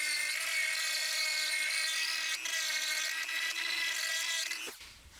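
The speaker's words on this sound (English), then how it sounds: "Now I just need to trim some of this fat under here." A power tool grinds steadily at the metal under a BMW E46 drift wagon, a continuous high whine that dips briefly midway and cuts off near the end, close and fairly loud.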